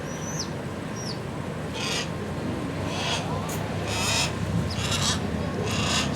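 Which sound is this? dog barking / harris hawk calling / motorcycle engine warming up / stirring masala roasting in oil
harris hawk calling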